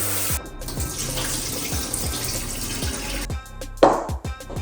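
Tap water runs steadily into a sink as short grain white rice is washed, with repeated low splashing and sloshing, then a brief pause and a few sharper knocks and splashes near the end; no one talks.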